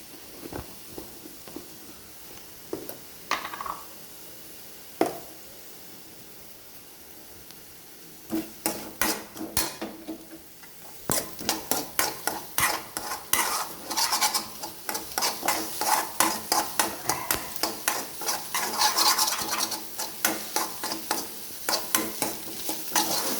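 Egg fries in a pan with black pepper while a utensil stirs and scrapes it, starting quiet with a few scattered knocks, then building into a loud, quick run of rhythmic scraping and clatter over a constant sizzle.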